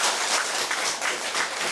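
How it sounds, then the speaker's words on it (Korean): A congregation at a Sunday church service applauds together, a steady, dense wash of many hands clapping at even loudness for just under two seconds, with no voices standing out. "여러분 크게 한번 박수 한번 쳐주세요"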